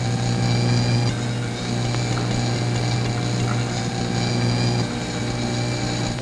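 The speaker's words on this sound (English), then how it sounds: "The plane should be practically overhead." An airplane passing overhead, heard as a loud, steady, broadband engine drone with a low propeller-like hum that persists unbroken throughout.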